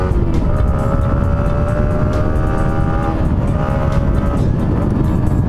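A 155cc street naked motorcycle roars steadily through a corner on a ride in Ternate, Cavite, its engine note loud and close with shifting revs over heavy wind rush.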